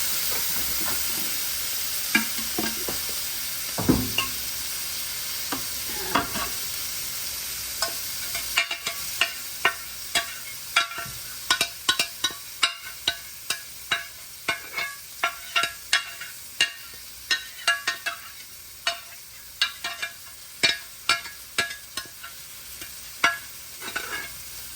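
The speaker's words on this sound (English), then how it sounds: "I'm going to sear in the juices and the flavor" Meat sears in a pan under a low sizzle, joined partway through by a rapid series of sharp clicks and scrapes from stirring that grow louder and more regular toward the end.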